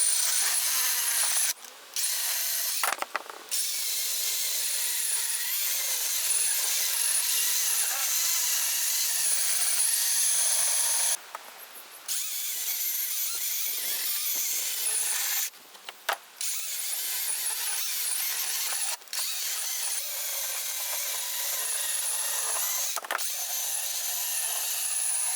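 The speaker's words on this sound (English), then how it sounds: "As you can see, it is cutting through some fairly large pieces of timber." A Dewalt DCM565 18V cordless chainsaw cutting through large pieces of timber, a continuous close, loud buzzing whine with a few short breaks as the cuts pause, no talking.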